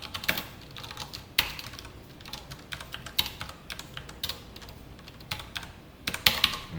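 Rapid, uneven clatter of keys on a computer keyboard as code is typed, close and clear, with bursts of louder keystrokes and short pauses between runs, no voices.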